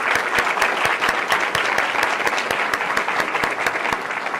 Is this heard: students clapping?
yes